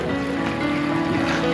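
A small boat heading out at roughly 10 to 12 knots, pitching up and down over ocean waves, with a steady broad rush of water and wind noise on the microphone under a constant low engine hum.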